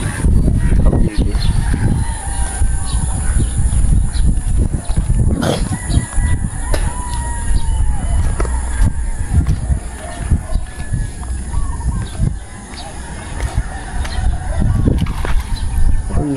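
Geese honking outdoors near a fishing spot, repeated loud nasal calls close by over a busy background, with people talking intermittently.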